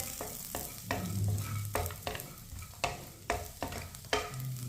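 A spoon stirs and roasts semolina in a pan for sweet suji halwa, giving about eight rhythmic, close scraping strokes over a soft frying sizzle, with no talking.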